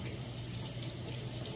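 Tap water runs steadily into a kitchen sink while crab legs and seafood are rinsed, a continuous close splashing hiss with no talk.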